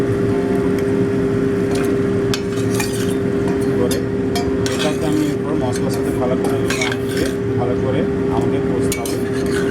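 Bhetki kata chorchori, a Bengali fish-head and vegetable dish, being stirred and fried in a pan, with steady sizzling and frequent scraping and clinking of a spoon against metal throughout, under a constant low hum.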